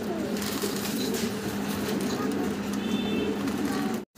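A pair of pigeons on a farm, an Andalusian hen and an opal bar cock, coo in soft, low, repeated calls against steady background noise, with a few faint flutters.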